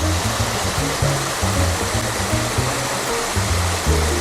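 Water flowing out of a pond at Lost Mountain Park, a steady close rushing and splashing like a small stream or spillway, continuous and loud throughout with no pauses.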